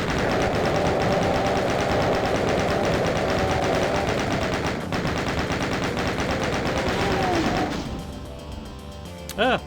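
Continuous rapid automatic gunfire from the video game Final Doom, loud and dense for about eight seconds before cutting off into quieter game sounds and tones.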